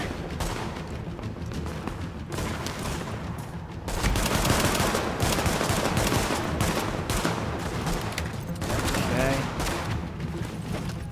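Rapid automatic gunfire in The Division video game, dense bursts and volleys firing almost continuously, loud and close, growing heavier partway through.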